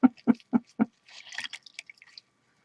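Fabric and lace dyed in beet juice are wrung out close by: four distinct heavy drips fall at an even rhythm, then a short, quieter splattering trickle.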